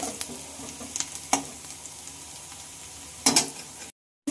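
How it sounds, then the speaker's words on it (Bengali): Onion and garlic sizzle steadily in a pan, with a spatula stirring and knocking against the metal in a few sharp scrapes before the sound cuts out briefly at the end. "পেঁয়াজ রসুন খুব ভালোভাবে ভাজা হয়ে গেছে"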